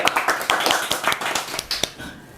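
Applause from a studio audience on an Indonesian comedy show, a burst of sharp, fairly dense claps close by that thin out and fade toward the end.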